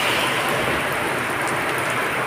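Heavy rain pours steadily in a village, a dense continuous hiss of downpour with no pauses and no voices.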